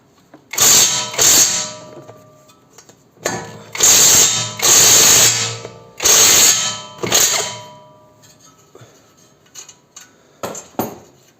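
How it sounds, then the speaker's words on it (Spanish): A 19 mm socket wrench ratchets against a ball joint nut on a SEAT Ibiza 6L, with loud bursts of clicking and metallic clanks that come in bursts between quieter pauses. "con una 19 de bazo vamos a aflojar la tuerca de la rótula"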